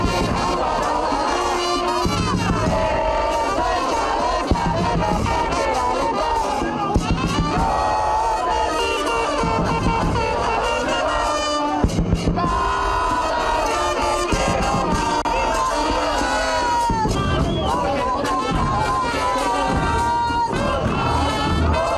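Crowd of supporters cheering, shouting and applauding as team vans roll past on their arrival in Monterrey, a dense, continuous roar of many voices with bursts of clapping throughout.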